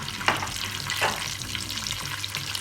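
Melted butter sizzles in a pan with red pepper flakes for a yogurt soup, a soft, steady frying hiss with a couple of brief crackles.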